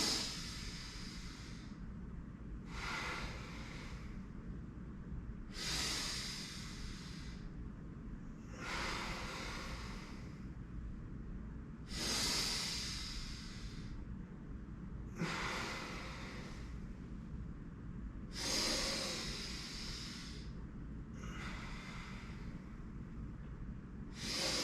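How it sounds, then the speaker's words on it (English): Slow, steady breaths drawn in and let out during yoga head rotations, about eight soft airy swells spaced a few seconds apart, close and quiet with no talking. "each rotation, half inhale and half exhale"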